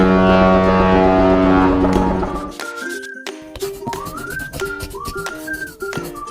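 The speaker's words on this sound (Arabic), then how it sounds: "بوت قارب" A boat horn sounds one long, loud, deep blast lasting a couple of seconds, then it cuts off and a light whistled melody follows.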